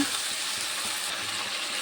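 A ginger, garlic and dried chilli paste fries in hot oil with potatoes and onions while being stirred, giving a close, steady sizzle with soft scraping.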